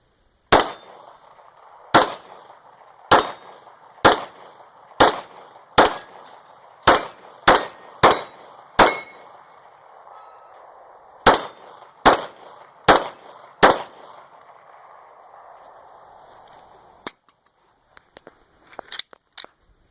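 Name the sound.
Glock 26 9mm pistol firing with Glock 19 magazine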